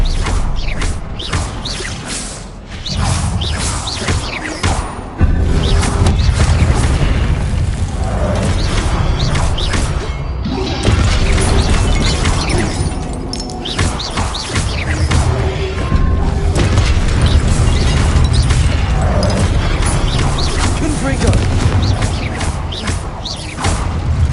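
Spell explosions from Confringo casting in Hogwarts Legacy on PlayStation 5, a dense, loud run of booms, crashes and mechanical clanks layered over continuous game action for the whole stretch.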